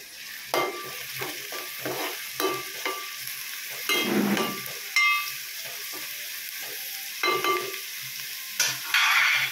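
Onions frying in a pan for a taro curry, a bright sizzling hiss that swells and fades as they are stirred, with repeated scraping knocks from a utensil, near and without speech.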